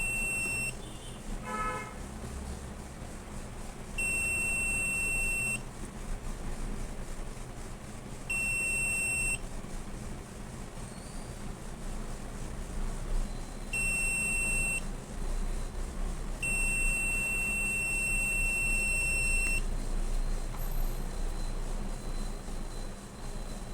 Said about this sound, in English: red LED turns on and buzzer also activates